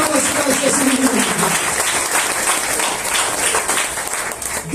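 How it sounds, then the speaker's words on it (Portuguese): A church congregation claps for Jesus in dense, steady applause that fills the room for several seconds, with a voice audible briefly at the start. "Pode bater palmas para Jesus."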